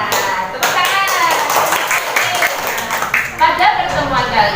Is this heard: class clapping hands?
yes